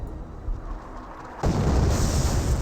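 Artillery barrage explosions in Company of Heroes pound the battlefield, low rumbling booms giving way midway to a sudden loud, broad blast that keeps roaring in a sustained wash of debris and fire.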